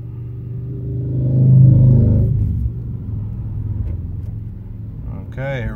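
A pickup truck with nearly 100,000 miles drives toward a red light, its low engine rumble swelling and then settling as it slows, with a person speaking over it.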